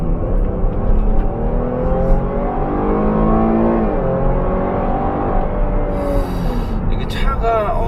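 A Cadillac XT6 SUV accelerates from inside the cabin, its engine note rising steadily through the gears in a smooth, loud drone, with a faint rattle near the end.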